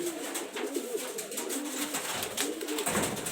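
A female high-flyer pigeon coos close by, a string of soft, low, throaty coos repeating steadily with no one talking.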